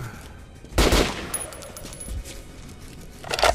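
Gunfire in the Metro Last Light video game: a loud shot near the start, a fainter burst mid-way and another shot at the end, with a brief metallic ringing between.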